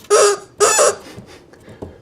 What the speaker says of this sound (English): Pirate chicken, peg leg, dog chew toy.